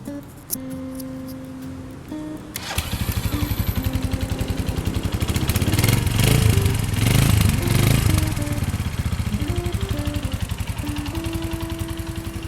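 A stock 2017 Stallion Centaur 250 Max motorcycle engine starts and runs at close range. It settles into a loud, steady, rapid thumping idle that rises briefly in revs midway, with no talk over it.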